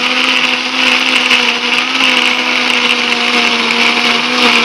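Electric blender grinding curly red chilies, six shallots, five garlic cloves and a tablespoon of coriander seed into a spice paste, a loud steady motor whine with gritty chopping throughout, no talk.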